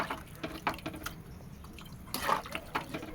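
Water is poured from a bowl onto uncooked rice in another bowl, giving soft, close splashing and trickling with irregular drips over a few seconds.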